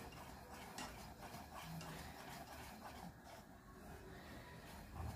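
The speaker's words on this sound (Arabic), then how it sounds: "دابا ما نحبسش كاع التحراك، كنبقى نحرك على هذا الشكل هذا" A whisk stirs pastry cream in a pot with a soft, continuous scraping and swishing of metal against the pot. It is faint and close, and no one speaks.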